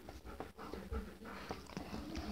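A dog pants and whimpers close by in a home while someone greets it, quick breathy bursts mixed with soft whines and short sounds from a person.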